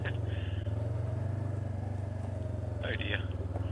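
Motorcycle engine droning steadily close by as the rider circles around near Browns Falls, a continuous low rumble with a few brief whistling noises over it.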